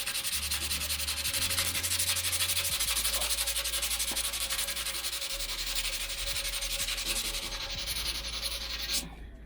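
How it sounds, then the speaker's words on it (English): Someone hand-sands Bondo filler on a fuel tank with 80 grit sandpaper in steady back-and-forth strokes, producing a continuous loud rasping rub. A low hum sounds underneath, and the sanding stops abruptly at the end. "keep on sanding until it's completely flat, kind of like this"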